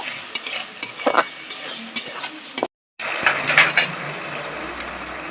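Spiced masala with tomato and a splash of water sizzles steadily in a pan while a utensil stirs and scrapes, a brief silent gap midway, close and fairly loud with no voices.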